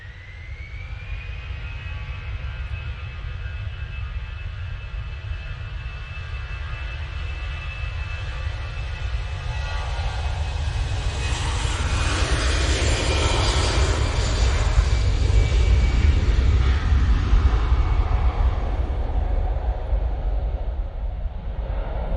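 A passenger plane departs Manchester Airport bound for Amsterdam Schiphol, its jet engine roar building steadily from a whine to a loud, broad rush that peaks and holds, heard at a distance without talking.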